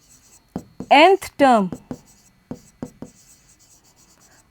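Marker or chalk writing on a board during a Hindi-English maths lesson on arithmetic progressions, a few short scratchy strokes scattered between and under a teacher's nearby speech.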